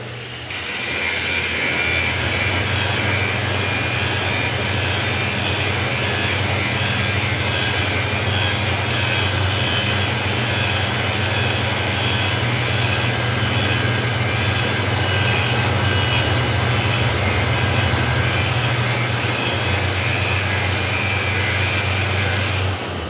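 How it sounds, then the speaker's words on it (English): Power tool cutting through metal while running on a Milwaukee ROLL-ON 7200W/3600W 2.5kWh power supply, a loud, steady, continuous motor whine and grinding drone held at near-constant level for the whole stretch, with no talk. "with roll-on, it's able to cut through the metal much faster"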